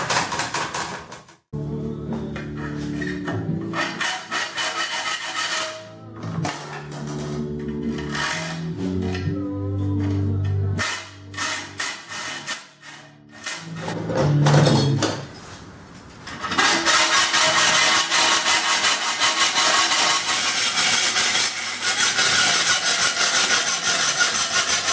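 A hand saw cuts through steel for a cabinet scraper, heard as close, rhythmic rasping strokes broken by pauses and a few knocks, ending in a sustained loud grinding or filing noise.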